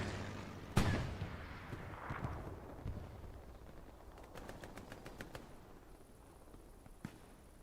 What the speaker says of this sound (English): Strafing run comes down as well.